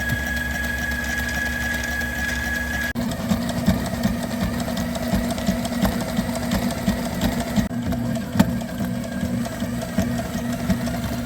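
A Sailrite LSZ-1 sewing machine winds a bobbin during repair of a genoa sail, giving a continuous mechanical hum with a steady tone that shifts partway through, plus a few small clicks, close and moderately loud.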